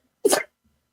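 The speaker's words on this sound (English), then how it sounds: "that sneeze was aggressive" One sharp, forceful human sneeze bursts out, close and brief, during a podcast, with silence before and after.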